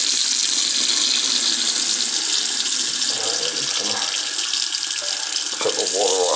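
Water streams steadily from a leaking tub shower faucet, a close, continuous hissing splash with slight changes in flow near the end.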